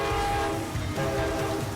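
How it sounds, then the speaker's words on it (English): A train rolls past on railroad tracks by a stadium, a loud, continuous rumble with a horn tone layered over the clatter of the cars. "And a train is coming."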